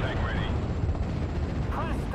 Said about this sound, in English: 25 pounders are hitting the mark